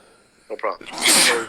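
A person sneezes sharply and loudly near the microphone, the burst following a few quick spoken words in a conversational setting.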